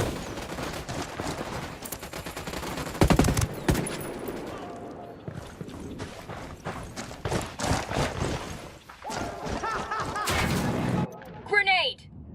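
Ghost Recon Wildlands gunfire crackles in irregular bursts, from sharp close shots to scattered distant cracks, mixed with game ambience and a voice speaking over the action.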